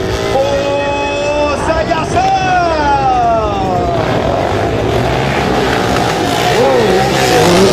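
Honda motorcycles, including a CRF 400, rev loudly with engine pitch climbing and falling in repeated sweeps, close and prominent, while an announcer shouts over the noise.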